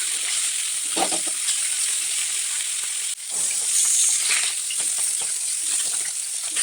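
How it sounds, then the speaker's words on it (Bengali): Turmeric-coated katla fish pieces fry in hot oil and are turned, a loud, continuous close sizzle with occasional clinks and shifts as the pieces are flipped. "মাছগুলো গায়ে হলুদ করে নিয়ে এখন ভেজে নিচ্ছিলাম উল্টে পাল্টে ভালো করে"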